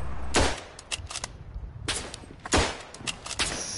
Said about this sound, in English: There's a lot of bolt action rifles being shot.